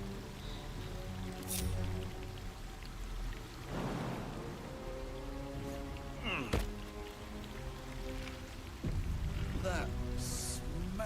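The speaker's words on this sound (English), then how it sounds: "Maybe this waterfall will rinse the curse off." A waterfall in a video game rushes with a steady broadband wash over quiet background music, broken by a few sharp knocks and splashes.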